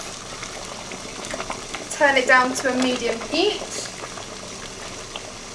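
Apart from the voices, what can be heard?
water boiling in a pot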